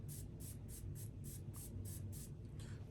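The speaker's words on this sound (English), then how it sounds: "I sprayed with the water." A spray bottle mists water onto skin during a golden mask facial, about eight quick rhythmic hissing spritzes close up and fairly quiet, with a faint background rumble.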